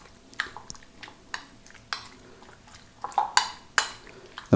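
Spoon clinking against a bowl while chicken popcorn marinade is mixed, a series of sharp metallic taps and scrapes with short pauses between strokes, close by and alone.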